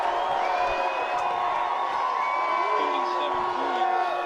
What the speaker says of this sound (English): Loudest we've heard this crowd yet.